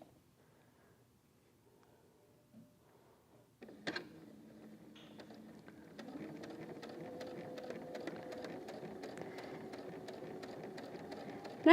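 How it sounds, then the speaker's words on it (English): A sewing machine stitches chain quilt block pieces, starting after a few soft handling clicks and then running in a steady, even whir for several seconds at a slow, careful pace. "I'm just gonna sew nice and slowly here"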